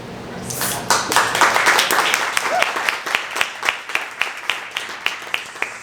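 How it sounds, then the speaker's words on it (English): An audience at a disability community hub gathering applauds its organizers, a burst of clapping that swells early, then thins into a few slower, distinct claps toward the end. "I'd like to give them another round of applause"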